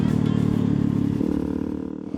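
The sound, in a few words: Super Cub moped riding past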